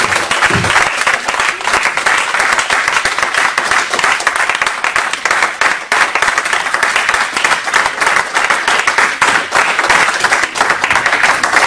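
A church congregation claps and cheers in praise together, dense, loud, continuous applause filling the room without a break.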